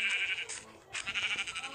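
A Minecraft goat bleats in short nasal bursts, two or three cries in quick succession, close and fairly loud with no talking over it.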